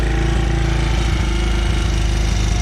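A Honda ATC 185 three-wheeler fitted with a swapped-in Chinese 150cc engine idles a little high, a loud, steady, close rapid putter with no pauses.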